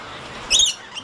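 A bird at the Louisville Zoo gives a single short, high chirp, close and fairly clear over a soft, steady background hiss.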